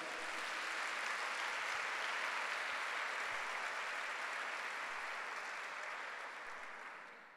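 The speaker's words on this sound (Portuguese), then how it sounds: "Você pode dar um aplauso a Jesus?" Congregation applauding during a Sunday church service, a steady, dense wash of clapping that holds for several seconds and fades slightly at the end, with no talking over it.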